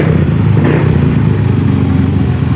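Close and loud, a motorcycle engine idles steadily after a tensioner repair, giving an even, continuous mechanical chatter and hum with no talk.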